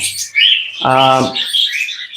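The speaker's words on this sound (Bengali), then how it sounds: "কোকাটেল পাখি সবচেয়ে ভালোভাবে চেনা যায় হচ্ছে অ্যাক্টিভিটিস বা ডাকাডাকি দেখে" A lutino cockatiel pair gives short chirps, then one louder drawn-out call, followed by softer twittering, all close and clear.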